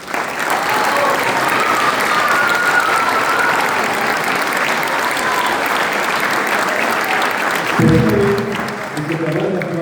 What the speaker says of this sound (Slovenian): Vsem njem močen aplavz.